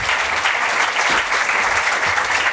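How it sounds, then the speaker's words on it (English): Warm, steady applause from a seated audience at the Edinburgh International Book Festival, a dense, even clatter of many hands throughout the short stretch. "please give them another lovely round of applause"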